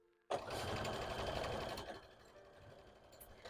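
A sewing machine runs steadily while hats are being sewn, its motor whirring loud and close with a fast stitching rhythm for about a second and a half before it slows and fades into a quieter hum.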